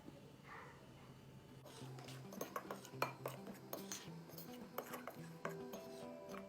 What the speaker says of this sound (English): whisk together the 2 cups of all-purpose flour and the 2 teaspoons of baking powder